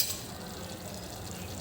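Cumin seeds crackle and sizzle in hot oil, a dense, close frying hiss that holds steady over a brief stretch with no voices.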